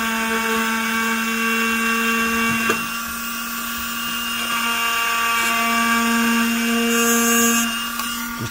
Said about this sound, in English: Increase the speed of the Dremel.